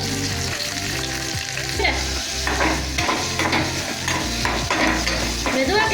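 Mustard seeds, urad dal and small shallots fry in hot oil while a spoon stirs, giving a steady loud sizzle with scraping and a few spoon knocks, and music plays underneath.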